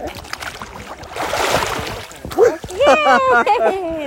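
A child dunks into water at a resort in Bandarban, making a brief splashing swoosh, followed closely by an adult's voice speaking.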